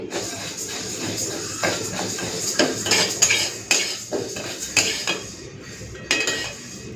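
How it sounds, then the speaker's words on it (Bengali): Urad dal lentils rattle and scrape in a preheated wok as a metal spatula stirs them, with repeated clinks and a faint frying hiss. "এখন কড়াইতে দিয়ে দিচ্ছি ডাল। কড়াইটা কিন্তু আগে থেকে ভালো করে গরম করে নিয়েছি।"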